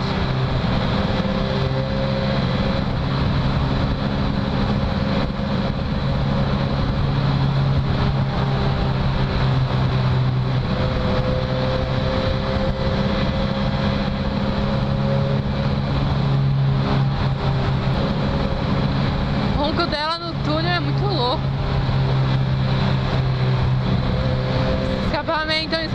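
Yamaha XJ6 motorcycle fitted with a custom-made exhaust riding downhill on a mountain road, a steady loud engine drone with sustained tonal hum throughout and a brief shift around the twentieth second, with wind rush.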